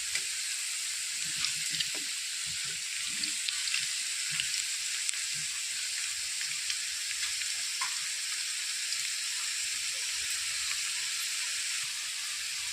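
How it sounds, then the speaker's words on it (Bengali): Potatoes fry in hot oil in a home kitchen pan, a steady close sizzle and hiss with small pops and crackles running evenly throughout, with no voices. "আলু ভাজা হয়ে গেছে, এবার আলুগুলো তুলে নিই।"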